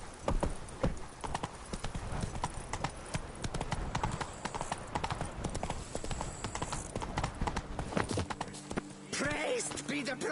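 The horse Roach trots in a video game, its hooves clip-clopping in a quick, steady rhythm close by through most of the stretch, with a few faint game sounds and a snort near the end.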